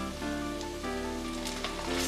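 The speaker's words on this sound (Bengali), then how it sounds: "2 মিনিট আদা রসুনের পেস্ট ভেজে নেব, কাঁচা গন্ধ এতে করে চলে যাবে" Ginger garlic paste sizzles in hot oil in a pan, with a steady, moderate frying hiss and a few soft crackles.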